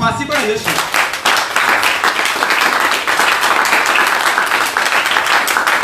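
A church congregation applauds in sustained, dense clapping that fills the space, steady and loud throughout, with voices mixed in.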